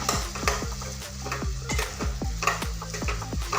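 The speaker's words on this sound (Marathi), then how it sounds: "आता ते सोडणार आहे याला छान असं मस्त परतून घेऊया" Boiled medium potatoes being stir-fried with spices in a pan, a close, continuous sizzle with rapid, rhythmic spatula scrapes and knocks against the metal, steady throughout with no voices.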